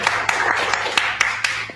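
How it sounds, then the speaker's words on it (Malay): A small group clapping for the SKB team, a brief burst of separate, distinct hand claps with a loose rhythm, close and moderately loud. "Tepukan untuk SKB."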